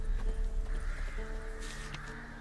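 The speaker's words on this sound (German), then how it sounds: "Und man hört die Krähen" Crows cawing in the ruined, burned-out landscape of The Witcher 3 game, harsh calls scattered over a low rumbling ambient bed with faint game sounds, no talking.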